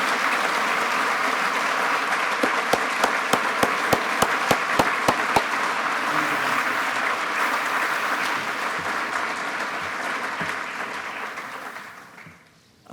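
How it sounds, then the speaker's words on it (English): Sustained audience applause at an education awards ceremony honoring mini-grant recipients, steady and dense for about eleven seconds, a few sharper nearby claps standing out early on, then fading away near the end. "Now you may applaud all of these mini-grant recipients."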